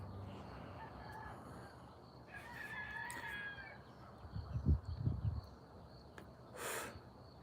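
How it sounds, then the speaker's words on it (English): A rooster crows once at moderate distance, with a faint background of other fowl and no talking. "These roosters are all about crowing."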